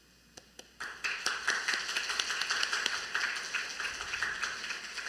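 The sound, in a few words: audience applause welcoming a missionary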